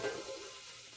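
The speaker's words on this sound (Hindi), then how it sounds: "मम्मी आम ही छौंक रही है भैया, आम की सब्जी बन रही है कैरी की।" Raw green mango curry being tempered in a hot pan at home, giving a steady hiss and crackle of oil that is loudest at the start and then settles into a softer, even sizzle. No voices are heard.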